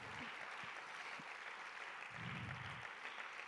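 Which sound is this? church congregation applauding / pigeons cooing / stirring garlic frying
church congregation applauding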